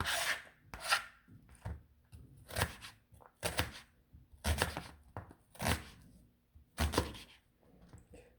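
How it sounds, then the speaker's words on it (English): A knife chops an onion on a cutting board in an irregular series of about ten close, crisp strokes with short pauses between them, in a quiet home kitchen. "I don't know if I have the best onion chopping technique."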